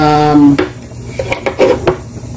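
A spoon clinks and scrapes against a metal cooking pot while stirring tinolang isda, a fish soup with matambaka fish, several sharp close knocks in quick irregular succession after a brief tonal ring.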